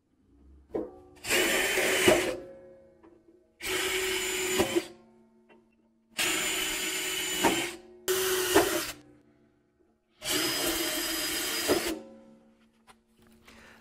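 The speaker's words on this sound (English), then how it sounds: "So I'm using a pilot drill here." Pilot drill boring holes through a workpiece, heard as five loud, whining bursts of one to two seconds each, separated by short quiet pauses, close by with no talk.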